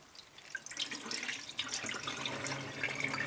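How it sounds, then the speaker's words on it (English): Cold water runs into a bowl of uncooked rice as it is washed, with close splashing, dripping and trickling, a steady wet sound that grows slightly busier toward the end. "step number 1 is to wash the rice. Put it in a bowl."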